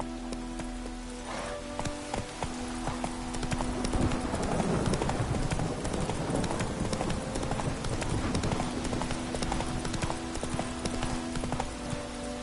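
Hooves of Roach, the horse in The Witcher video game, clip-clopping in a fast galloping rhythm that swells louder midway, set against rain and a low ambient bed of game music.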